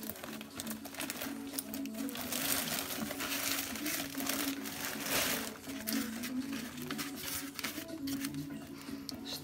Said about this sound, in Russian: Вскрываем пакетик.